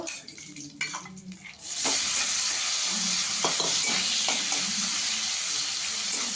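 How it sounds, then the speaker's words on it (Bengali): Prawns drop into hot oil and set off a loud, sustained sizzle that continues steadily, with a few light clinks of utensils and no talking. "দেখুন এবার আমি চিংড়ি মাছটাকে ভেজে নেব"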